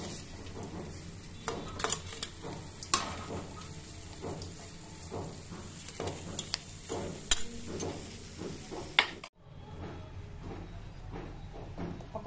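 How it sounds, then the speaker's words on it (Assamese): Mustard seeds and potatoes frying in hot oil in a pan for an Assamese fish curry, a steady low sizzle broken by repeated scraping and clinking of a utensil against the pan, close and without talk. "অকণমান সৰিয়হ দিলোঁ তেলতে, সৰিয়হ ফুটাই দিলোঁ"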